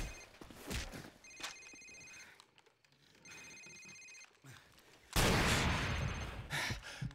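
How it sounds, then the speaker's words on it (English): A cell phone in Call of Duty 4: Modern Warfare rings in two bursts of electronic trills, with a loud noisy rush of game sound in between and afterward. "Sir, it's his cell phone."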